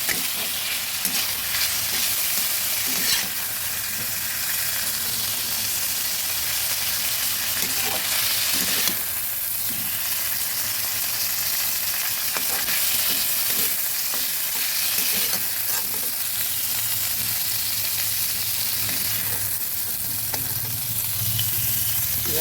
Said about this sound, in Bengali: হালকাভাবে চিংড়ি মাছগুলো ভেজে নিলাম